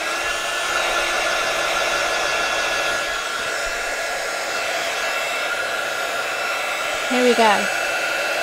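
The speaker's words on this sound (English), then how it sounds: "Right, so heat gun again." Heat gun blowing hot air to melt embossing powder for a distressed glaze resist craft project, a steady, close whooshing blast with a whining tone, and a short voice near the end.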